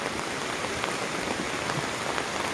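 Steady rain pours down in a residential subdivision in Davao City, a dense continuous hiss of drops striking surfaces, close and even throughout.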